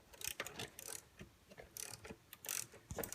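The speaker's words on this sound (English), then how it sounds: "with a 10mm socket, we're going to take off the negative battery terminal" Quick ratcheting clicks from a 10mm socket wrench loosening the negative battery terminal on a Nissan GTR R35, a few short bursts close by with brief pauses between, no voices.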